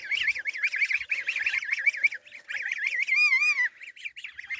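A flock of four-week-old goslings calls almost continuously, a close chorus of wavering, trilling honks and peeps with brief pauses.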